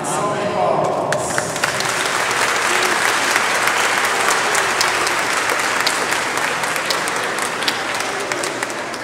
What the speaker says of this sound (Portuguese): Salve palmas.